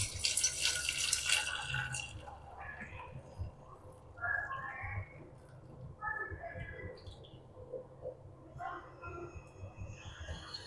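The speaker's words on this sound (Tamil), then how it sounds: "போட்டுட்டு இந்த தண்ணியை இதில் வடிகட்டிக்கங்க." Cooking water from boiled horse gram, with tomato added, is poured off through a strainer: close, uneven splashing and trickling with scattered drips, and a voice talking faintly underneath.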